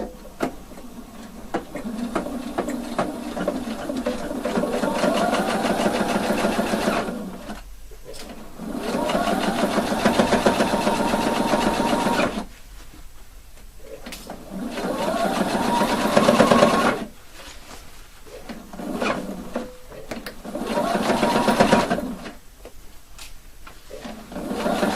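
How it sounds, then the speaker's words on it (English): A sewing machine runs in several steady bursts while stitching a 1 cm seam on a waist facing, with short quiet pauses between the runs and no talk. "So now we can sew it 1 centimeter, because later it's going to be turned to the back side."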